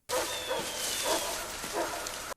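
A dog barks in a cornfield scene from the film Signs, giving several distinct barks over a loud, broad background hiss, close and alone without talk.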